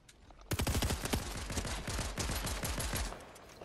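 Rapid gunfire-like bursts and blasts from grenades in an online squad video game, a loud dense volley starting abruptly and rattling on for about two and a half seconds before fading.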